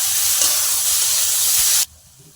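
Greens fry in hot mustard oil with dried chili and garlic in a kadai, giving a loud, steady, close hiss and sizzle that cuts off abruptly near the end, leaving near quiet.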